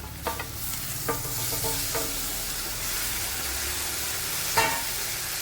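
Onion, curry leaves, green chili and tomato sautéing in a pan for dry fish thokku, a steady close sizzle broken by a few sharp stirring clinks near the start and once more near the end, with no voices.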